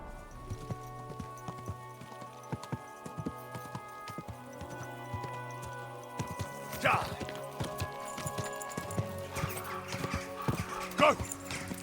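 Rapid hoofbeats of a galloping horse in Kingdom Come Deliverance clatter steadily throughout, with voices talking over them and a couple of brighter sharp accents near the end.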